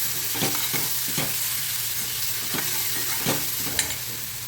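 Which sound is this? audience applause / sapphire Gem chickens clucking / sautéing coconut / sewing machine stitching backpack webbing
sautéing coconut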